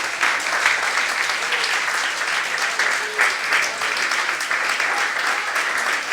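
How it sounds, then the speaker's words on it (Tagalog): A congregation at a Sunday church service gives loud, sustained applause, a thick continuous rush of many hands clapping at close range with slight swells throughout. "Isang malakpak na palakpak sa Panginoon."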